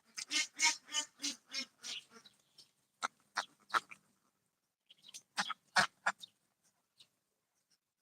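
Ducks on a duck farm quack in hot weather, one of them sick: a rapid close run of loud quacks, then a pause and scattered quacks and honks.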